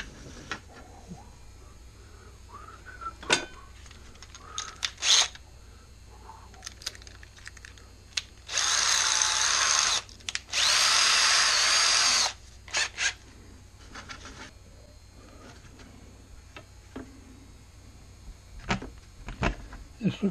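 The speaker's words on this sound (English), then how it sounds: "I need a drill bit just a little smaller than the nail this time." A power drill whirs in two short bursts into a piece of poplar wood, surrounded by small clicks, taps and handling noises.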